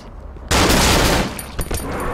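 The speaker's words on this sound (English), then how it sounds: "Need to shoot those guys" Gunfire in the horror video game Cry of Fear bursts in loudly as a dense, close blast that fades into a rough tail, followed by a couple of sharper shots.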